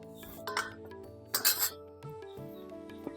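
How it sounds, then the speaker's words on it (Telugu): A metal lid is set on a pot of simmering egg curry, giving a few bright clinks and a louder clattering scrape in the middle, with a steady kitchen hum underneath. "ఇప్పుడు మూత పెట్టుకుందాం"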